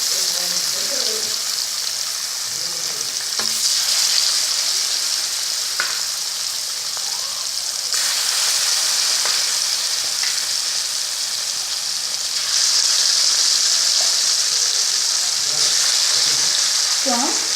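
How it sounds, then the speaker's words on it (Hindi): Spiced fish pieces fry in a pan of hot oil for a Mithila-style fish curry, a steady loud sizzle and crackle filling the whole stretch, with occasional stirring scrapes and a person speaking briefly underneath. "इसको हम ग्रेवी के लिए फ्राई कर रहे हैं"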